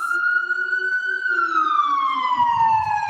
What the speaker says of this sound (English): let's just wait for this siren to go down